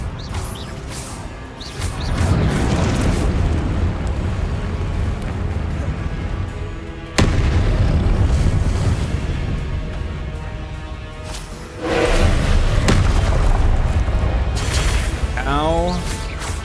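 Confringo fire spells in the Hogwarts Legacy video game burst repeatedly amid dense combat effects, loud blasts and whooshes stacking over a steady clash of game noise with a voice casting spells in between.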